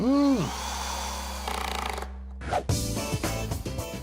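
A Makita cordless drill whirs briefly, then revs in short bursts as it drives a screw into wood, with some voice and background noise around it.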